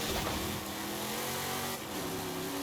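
Classic Shelby GT500 with over 500 horsepower, racing in Forza Horizon 5, engine revving hard and accelerating in a loud, continuous roar with a brief gear-change dip near the end.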